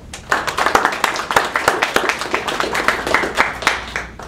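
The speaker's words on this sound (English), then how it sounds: "Let's give a big round of applause for our contestants, our hosts, and our supporters." Audience applause for contestants, hosts and supporters at the start of a quiz competition: a steady burst of many hands clapping, fairly close and lively, lasting the whole moment with no talk over it.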